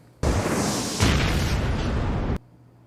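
A single loud cannon blast from an anime booms out and rumbles for about two seconds before stopping abruptly.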